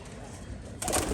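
Tumbler pigeons at a Rajshahi pigeon farm coo close by, soft throaty calls under a man's speech, with a sudden burst of brighter bird noise near the end.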